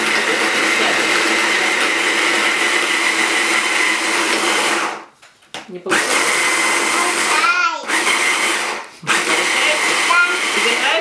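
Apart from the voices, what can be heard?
blender blending fruit for fruit ice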